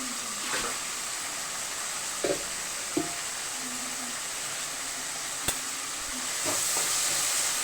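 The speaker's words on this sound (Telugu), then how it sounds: "ఆనియన్ అయితే మంచిగా వేగిపోయిందండి" Steady hiss of onions frying in a pan with a few brief utensil clinks and scrapes, fairly close, no voices.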